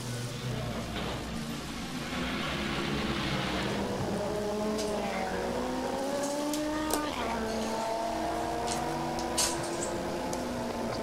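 Race car engine from the 2017 24 Hours of Le Mans, with Nelson Piquet Jr. passing through a chicane, rising and falling in pitch as the car brakes and accelerates away, under steady crowd and track noise with commentary talking over it.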